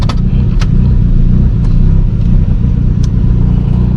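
A car fitted with a shift light drives along, its engine a loud, steady, close drone from inside the cabin with a few faint clicks and no talking.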